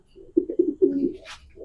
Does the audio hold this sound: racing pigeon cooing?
yes